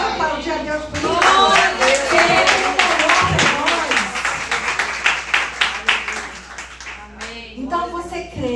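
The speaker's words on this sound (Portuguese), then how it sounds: "Você pode aplaudir a Deus por isso?" Church congregation at a women's service applauding God, scattered clapping under a loud voice that keeps speaking over it, with the clapping growing sharper and more separate near the end.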